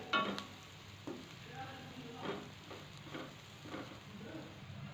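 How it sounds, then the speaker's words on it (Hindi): Spices and capsicum frying for chilli chana, a faint, soft sizzle with a few quiet stirring scrapes and taps, heard at low level. "तो मसाले डालकर हम इसको भून लेंगे ताकि जो हमारे मसाले हैं वो कच्चे ना रहें"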